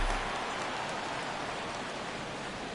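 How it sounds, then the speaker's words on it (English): Steady rain hiss falls over a ballpark in a baseball video game, a dense, even wash of noise with no voices, holding at a constant moderate level throughout. "It could have a big impact when you get rain like this."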